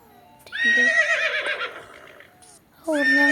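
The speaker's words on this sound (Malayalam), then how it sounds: "കുതിരൻ്റെ സൗണ്ട് കേൾക്കുന്നുണ്ട്" A horse whinnies loudly nearby in a long, wavering neigh, then falls quiet before a second neigh starts near the end.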